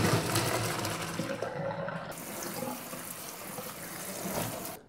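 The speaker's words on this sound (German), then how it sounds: "die gieße ich jetzt ab und werde sie auch gleich mit kaltem Wasser abschrecken." Boiled beans are drained and rinsed with cold tap water in a home kitchen sink while cooking a lamb stew with beans and potatoes, producing a steady, fairly loud rush of running and splashing water for about five seconds before it cuts off.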